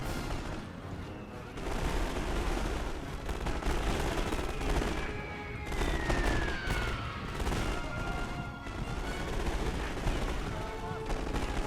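Submachine gun fire in The Great War 6.0 strategy game, a dense ongoing battle soundscape of rapid gunfire bursts and distant artillery rumbling, with a rising whistle passing midway, continuous and loud throughout.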